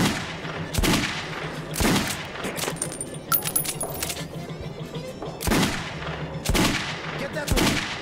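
Loud single gunshots ring out in the Metro video game at uneven intervals, two near the start and three more in a later burst, with a quieter stretch of metallic clinks and ambient game noise between them.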